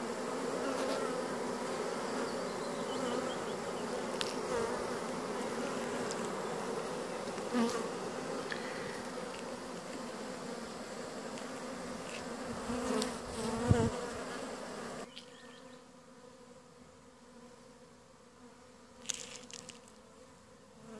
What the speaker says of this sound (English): That's how you know your queen is in her hive.